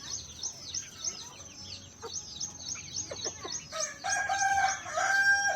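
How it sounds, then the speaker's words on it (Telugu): Country chickens at a village coop: a black native rooster crows loudly near the end, while high, rapid peeping and clucking from the flock repeats steadily throughout. "ఇది మన పుంజుగాడు, ఇదే మన కర్రె పుంజుగాడు."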